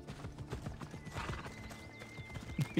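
A horse's hooves clip-clop steadily in the video game Assassin's Creed Odyssey, with a neigh rising near the end over a busy in-game soundscape.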